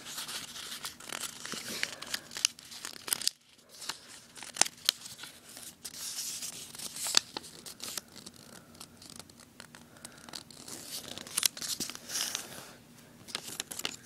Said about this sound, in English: take the top half of the piece of paper that you just made and fold it down to the bottom line.